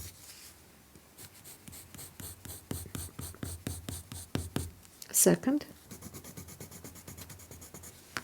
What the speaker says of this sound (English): So here's the first layer with watercolor pencil.